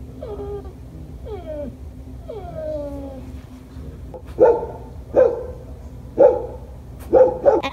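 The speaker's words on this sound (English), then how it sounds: "Whining bark." A recorded dog's whining bark played from an Echo Dot smart speaker: a few drawn-out whimpering whines, then a series of four sharp, evenly spaced barks, moderately loud indoors.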